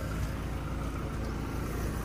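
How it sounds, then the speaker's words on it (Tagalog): A 2024 Toyota Hilux J 4x4 pickup's engine runs with a steady low rumble, close and continuous, with a broadband hiss that sounds almost like wind, no one speaking. "So pakinggan nyo yung makina niya mga ka-farmers."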